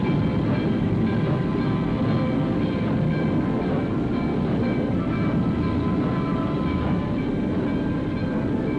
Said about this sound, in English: hundreds of passenger trains are made up every day, in addition to hundreds of freight trains